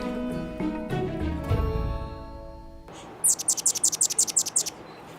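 Tonal ringing notes fade out, then a quick series of sharp, high chirps repeats rapidly, hummingbirds calling close by in an aviary.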